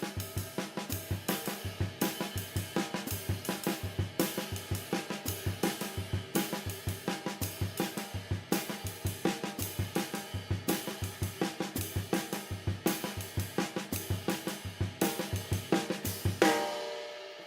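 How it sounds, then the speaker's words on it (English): Snare and bass drum figure beginning with a single snare stroke, then a steady, evenly repeating pattern of close, loud hits throughout, with a louder accent near the end. "can also start it out playing just one beat up here in the snare drum and then continue the figure from that."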